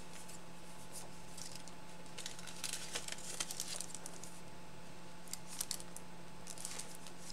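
Scissors snip through paper while making a window envelope pocket craft, a series of quiet, uneven cuts over a steady background hum, with no talking.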